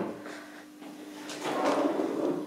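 A very large kitchen drawer in a fully equipped apartment kitchen slides open or shut, a soft rolling rumble with a faint clunk, fairly close and alone.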